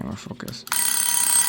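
A small mini alarm clock rings with a steady, bright electronic tone that starts partway through and continues to the end, loud and close, with a voice speaking briefly just before it begins.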